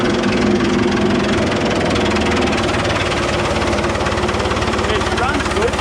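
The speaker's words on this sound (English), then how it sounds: "It runs good. It runs like a dream. The motor runs good. It runs real nice." A huge wood chipper's motor runs loud and close in a steady, rumbling idle with a knocking vibration throughout, while a voice talks underneath.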